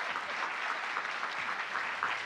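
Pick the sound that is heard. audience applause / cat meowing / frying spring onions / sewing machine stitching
audience applause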